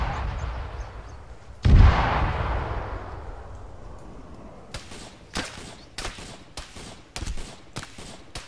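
High-explosive artillery rounds landing at a distance during a military exercise: one heavy boom followed by a long rolling decay, then a rapid series of sharp cracks and thuds of further impacts and fire.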